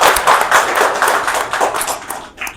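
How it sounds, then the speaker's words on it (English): A crowd claps steadily, a dense patter of many hands that continues evenly, then thins out toward the end. "give a big round of applause to our speaker"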